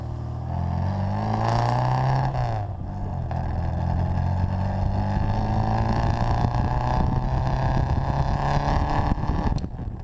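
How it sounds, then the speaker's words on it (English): A 1959 Bugeye Sprite's engine drones loudly and steadily with a deep, slightly louder-than-stock exhaust rumble, pitch climbing as it accelerates, with wind buffeting throughout. "It has a really nice exhaust note, a little louder than stock and very sports car-like."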